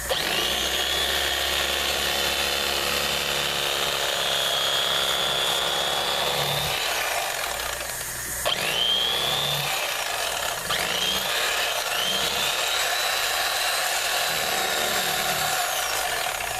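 Electric knife cutting through fish while cleaning it, a loud continuous motor buzz that drops in pitch as the blade meets the flesh, with a brief dip and restart midway.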